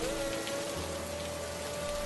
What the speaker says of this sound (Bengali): বাইরে একবার তাকিয়ে দেখ, যেমন বজ্রপাত পড়ছে তেমন ঝড় বৃষ্টি।